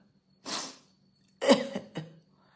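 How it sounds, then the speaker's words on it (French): Two harsh coughs, the second a quick double burst, close and fairly loud against silence. "Quand je tousse"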